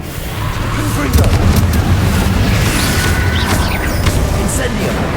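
Confringo explosion spells in Hogwarts Legacy go off in a dense, loud rumble of booms and bursts, one strong blast early on, amid continuous combat noise with voices underneath.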